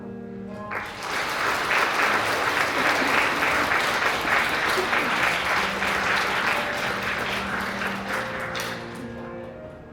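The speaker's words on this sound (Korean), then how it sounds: "내빈 여러분께서는 큰 박수로 답례하여 주시면 감사하겠습니다" Guests at a wedding hall applaud the bride and groom, a full, close burst of clapping that swells in quickly and holds steady before slowly tapering off.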